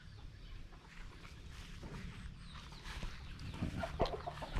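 Chickens cluck faintly at a distance over a steady outdoor background hum, with a few louder calls toward the end.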